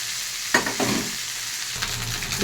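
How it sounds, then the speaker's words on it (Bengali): Cooked rice tipped into a pan of fried vegetables and stir-fried, a low sizzle broken by a couple of louder scraping stir strokes and clatter, close and without talk. "সবজিগুলো বেশ সুন্দর ভাজা হয়ে গেছে, দিয়ে দিচ্ছি আমি ভাতগুলোকে।"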